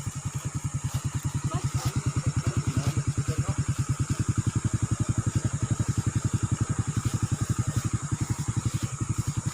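A motorcycle engine idles steadily close by, its fast, even exhaust pulses thumping without a break, with faint background noise from an outdoor setting near a stream.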